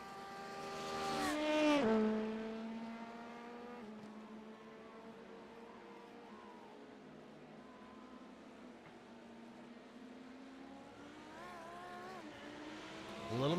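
A Lamborghini race car's engine revs during a sports car series race, with a strong pass near the start, a steady droning whine with gear shifts through the middle, and a rising rev at the end.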